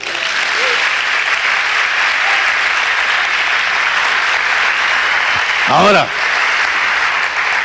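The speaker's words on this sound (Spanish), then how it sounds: "Le damos un aplauso." Loud, dense applause from a church congregation fills the space steadily from start to finish, with a voice briefly speaking over it near the end.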